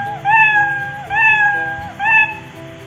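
Three cartoonish cat meows from a Scratch animation sound in a row, each a bright, rising-and-falling tone, evenly spaced and clear against a quiet background.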